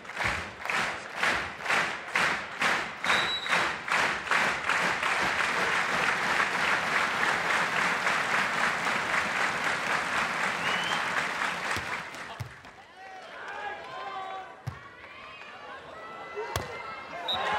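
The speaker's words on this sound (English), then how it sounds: "Let's clap our hands for the US." Crowd applause and rhythmic clapping at a beach volleyball final at the 2011 Prague Open, loud and sustained for about twelve seconds before fading into scattered claps and crowd noise.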